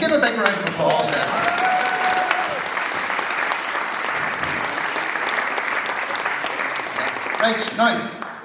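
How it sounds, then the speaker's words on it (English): An audience at a live folk music event claps in a long, loud burst that fades near the end, with no talking. "just give a big round of applause there"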